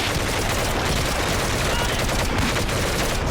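Gunfire in the shooter game Medal of Honor: Heroes forms a dense, unbroken wall of rapid shots and crackling bursts, loud and constant for the whole stretch, with faint voices under it.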